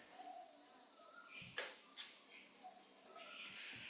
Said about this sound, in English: We can hear the birds, which is beautiful.